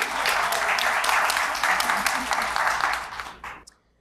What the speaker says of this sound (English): Let's clap for Dr. Daisy Walker.